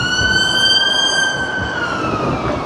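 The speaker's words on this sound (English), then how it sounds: "It's a bit of a loud siren now." A loud, close siren wails with a sustained, slowly bending tone over faint background noise on a windy Blackpool promenade.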